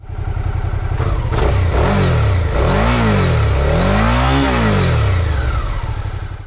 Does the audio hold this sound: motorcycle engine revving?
yes